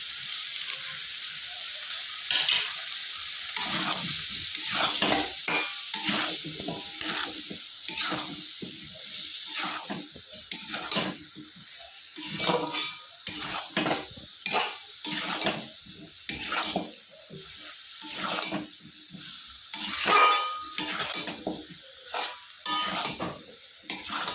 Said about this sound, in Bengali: এবার এই মশলার মধ্যে দিয়ে দেবো আমি গাঁটি কচু আর আলু। সব একসাথে কষিয়ে নেবো আমি।